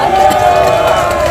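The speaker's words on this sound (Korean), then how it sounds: "자, 저들에게도 큰 박수를 한번 보내주시기 바랍니다." Outdoor rally crowd at a market talk show in Chuncheon, loud sustained cheering and clapping that fills the whole moment, close and dense.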